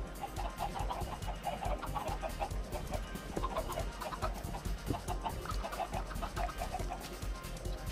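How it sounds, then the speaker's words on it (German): Chickens clucking in the video game Minecraft, a steady stream of short clucks and squawks from several birds over a continuous game background, with no talk. "Diese hässlichen Hühner, ey."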